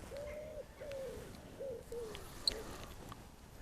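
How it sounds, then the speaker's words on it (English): Pigeons cooing beside a pond while fishing, a soft rhythmic run of four low coos in a row, moderately close, with quiet outdoor ambience and a small click near the end. "Just listen to the pigeons."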